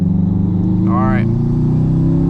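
A 2002 Subaru WRX wagon with a slight grind in fourth gear drives along, its engine a loud, steady, close-up hum with a short rising whine partway through, while someone talks over it.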